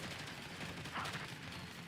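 Gunfire from a hillside ambush in the video game Girls' Frontline 2, a faint, rapid crackle of shots layered over a busy battle bed, with a brief brighter burst near the middle.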